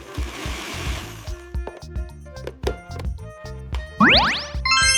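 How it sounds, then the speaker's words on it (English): An electric kitchen blender whirs for about a second before a series of dings, boings and thunks from cartoonish sound effects take over, closing with rising sweeps and chimes. "This is a blender."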